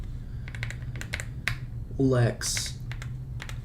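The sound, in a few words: typing on a computer keyboard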